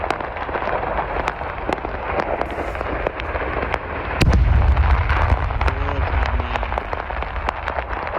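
Weapons depot blown up in Rostov, Russia: a steady crackle of sharp popping bursts with a deep boom rumbling in around the middle, loud and continuous with no talking.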